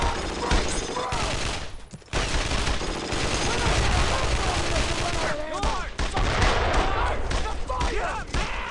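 Dense World War II battlefield gunfire in Brothers in Arms: Road to Hill 30, with sustained rifle and machine-gun bursts crackling loudly and continuously, and shouting voices mixed into the chaos.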